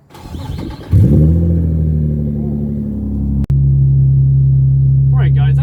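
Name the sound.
Nissan 350z engine cold start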